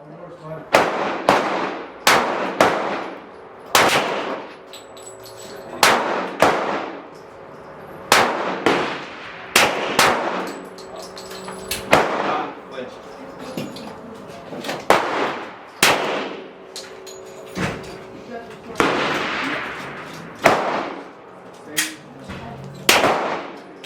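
Sharp gunshots from a Glock 41 pistol firing .45 ACP rounds loaded with TiteWad powder, about a dozen loud cracks at an uneven pace with ringing decay between them, outdoors at close range.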